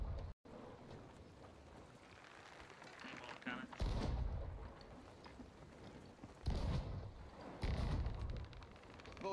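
Ship cannons firing in the Sea of Thieves video game, several heavy booms spaced a couple of seconds apart over a steady roar of sea and wind, with voices talking faintly underneath.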